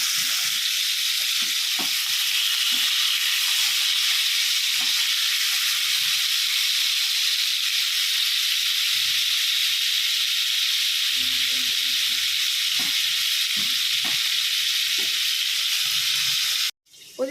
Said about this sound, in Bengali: এবার চিংড়ি মাছগুলো দিয়ে ভালো করে ভেজে নেব।